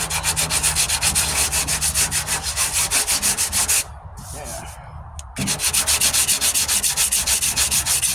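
Coarse 40 grit sanding on a rusty 1998 Ford Ranger tailgate panel, a loud rhythmic rasping of rapid back-and-forth strokes that pauses briefly midway before resuming.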